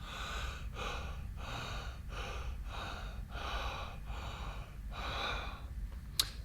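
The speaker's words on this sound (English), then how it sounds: "what I'm talking about here is crowded and shallow breathing, like this." A singer demonstrates crowded, shallow breathing: about eight quick, rhythmic breaths in succession, close and fairly steady in level, with a brief click at the end.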